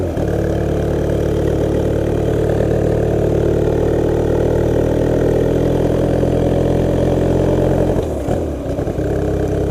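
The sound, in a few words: Honda Rebel motorcycle engine running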